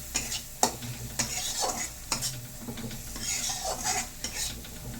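Salted fish fries in hot oil in a pan, a steady sizzle broken by repeated clanks and scrapes of a utensil stirring against the pan, close and fairly loud, with no talk.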